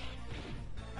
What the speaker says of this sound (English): Gonna body slam another dinosaur?